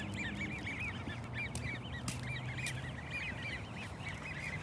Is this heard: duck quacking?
yes